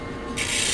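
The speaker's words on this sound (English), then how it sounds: "Do a little just a sanding on the back, just to generate a bare metal surface." Sanding the back of a metal bezel by hand, a brief close rasping rub that grows brighter and louder partway through.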